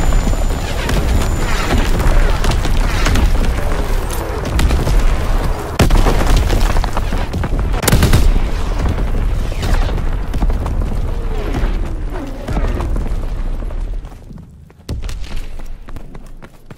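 Heavy artillery shells exploding in a World War II video game battle, a dense, loud run of deep booms and blasts with sharp cracks at intervals, the barrage thinning toward the end.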